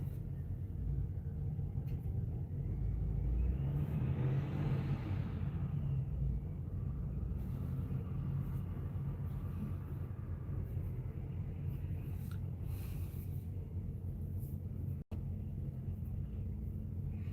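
Outside, a car passes as a faint, distant rumble that swells and fades over a few seconds against a low, continuous background hum.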